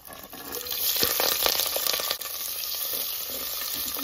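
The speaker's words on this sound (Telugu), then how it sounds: "కొంచెం దూరగా వేయించుకోవాలి" Onions, green chilies, garlic, dry chilies and curry leaves sizzle and fry steadily in hot oil for a tamarind-style okra curry, a continuous close crackling hiss with occasional stirring scrapes.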